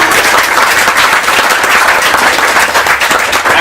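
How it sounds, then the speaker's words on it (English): Wedding guests break into dense, loud applause during the speeches, a thick continuous patter of many hands clapping close by without pause. "please clap"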